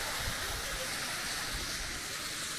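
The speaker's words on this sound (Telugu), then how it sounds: "ఇదేనండి వాటర్ ఫాల్స్" Steady, dense roar of a large waterfall deep in the Kailasakona forest, a continuous broadband rush of falling water close by, with no voices.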